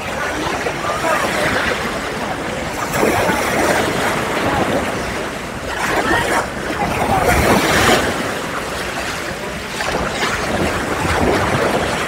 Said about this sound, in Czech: na zvuku bude znít jako hluk těch vln